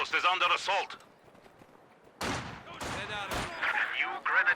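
Machine gun bursts in the strategy game Company of Heroes 2 with an MG firing from inside a building, sharp broadband rattles mixed with other battle noise while a commentator talks.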